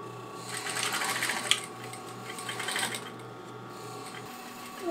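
A home sewing machine stitches a fanny pack, its motor whirring in quick, steady bursts at close range, then slowing and pausing, with faint room noise around it.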